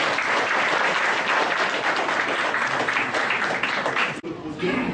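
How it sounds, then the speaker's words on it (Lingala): Audience applauding at a football championship awards ceremony, loud dense clapping that fills the space and then drops off sharply near the end, with voices underneath. "Sous vos applaudissements."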